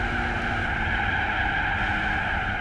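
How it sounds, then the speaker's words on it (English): A race car slides through a corner in Gran Turismo 4, its engine holding a steady, droning whine with a faint tyre scrub underneath, continuous and close throughout. "let the car slide a little bit"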